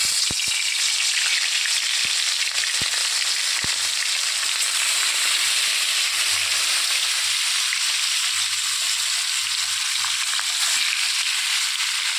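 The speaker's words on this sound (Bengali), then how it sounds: "কড়াইতে তেল দিয়ে আমি প্রথমে মাছটাকে ভেজে নেব।" Tilapia fish fries in hot oil in a wok, giving a loud, continuous sizzle with a few sharp clicks and no voices.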